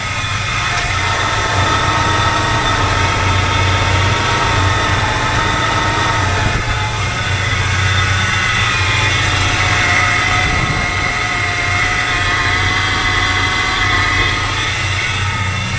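A 1985 K20 truck engine fitted with an Edelbrock 1906 AVS II carburetor runs steadily, its low droning rumble constant and fairly loud throughout, with a brief bump partway through.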